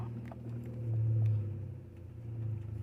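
Six-speed manual car creeping slowly in reverse, a low, steady engine hum with a gentle swell in revs partway through, close and alone without talk.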